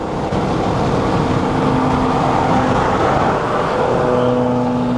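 A modified BMW M4 (G82) turbocharged engine drones steadily and loudly throughout, a low rumbling exhaust with a faint tonal hum riding on top, no voices.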